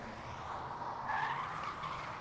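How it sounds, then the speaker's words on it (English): Tires squeal on a drift car during Formula Drift qualifying at Wall in 2019, heard as a sustained, fairly faint screech with a rising whine partway through. The screech plays over a dull background rumble. "to just hear the squealing of the tires and not hearing the engine sound is definitely eerie"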